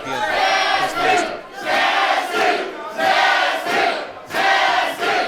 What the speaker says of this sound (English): Crowd getting behind our champion.